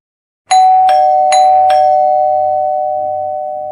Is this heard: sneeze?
no